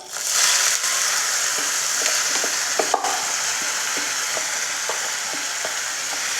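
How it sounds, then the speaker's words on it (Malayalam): Ginger and garlic, then salted pieces, fry in a pan under a loud, steady sizzle, with the clinks and scrapes of a spoon stirring through it, no talk. "ചുവന്ന കളറാവണം, അതുവരെ നമുക്കൊന്ന് ഇളക്കി കൊടുക്കാം"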